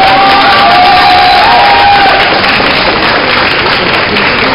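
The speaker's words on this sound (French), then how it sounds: "sous les applaudissements endiablés du public" A loud crowd at a cosplay show cheers and applauds continuously, a dense wash of clapping and shouting with a whistle rising early on.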